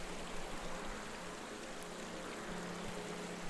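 A full, flowing river rushes steadily past, a constant broad wash of moving water that holds an even level throughout with no voices.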